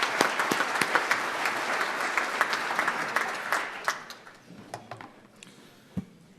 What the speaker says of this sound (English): let's give a round of applause to all of our guests.